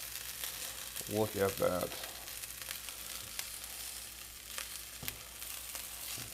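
A breakfast burrito with cheese, meat and potatoes toasts in a pan, giving a soft, steady low sizzle under a brief spoken remark.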